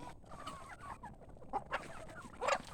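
Native chickens on a feeding farm cluck and call in soft, scattered bursts, a few birds nearby against a faint outdoor background, louder squawks near the end, with no talking.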